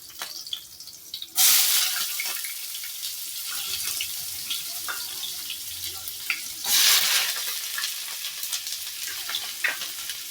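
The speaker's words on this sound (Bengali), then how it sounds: "এবার আমি পেঁয়াজটা দিয়ে দেবো ভাজার জন্য।" Onions frying in a pan, with two loud bursts of sizzling as food hits hot oil, then a steady crackling fry with scattered pops and utensil scrapes.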